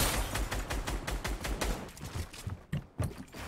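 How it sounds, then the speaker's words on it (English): Gunfire in the video game Fortnite: a fast, dense run of loud shots for about two seconds, then a few heavier, separate blasts with short gaps between them. "I'm getting sniped at, boys!"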